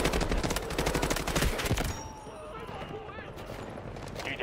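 AK-12 rifle fire in Delta Force Mobile, rapid automatic bursts crackling loudly for about two seconds before cutting off, followed by quieter game ambience and faint distant shots.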